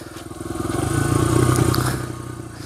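A 2001 Honda XR100R dirt bike rolls down a gentle slope, its small single-cylinder engine putting out a close, steady pulsing idle that swells slightly mid-clip and then eases, with some rattling chassis clatter.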